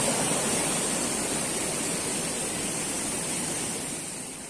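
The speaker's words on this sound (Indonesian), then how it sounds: "Airnya dari mana-mana ya, dari berbagai arah." Mountain stream water rushes from many directions in the forested interior of Gunung Sawal, a steady broadband roar close by, easing slightly toward the end, with no voices.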